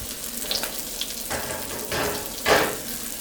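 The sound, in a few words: tuna burgers sizzling in a pan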